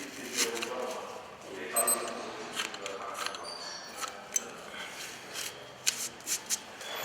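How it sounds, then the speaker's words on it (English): Athletic tape peeling and wrapping around a knee in a brief sequence of crackly rips and rustles, moderately close and fairly quiet, with handling noises throughout. "going around these anchor points now, not putting too much pressure on the tape"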